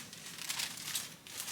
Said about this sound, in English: Let me get rid of the paper that is so noisy.